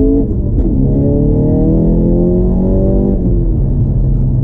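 A Seat Ibiza Cupra tuned to Stage 2+ revs loudly from close by, its engine note sweeping up and down in pitch with a deep, throbbing rumble throughout and no voices.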